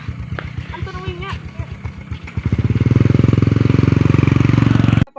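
A borrowed motorcycle engine that fires up partway through after a few people talk, then runs with a loud, rapid, even putter close by before cutting off abruptly.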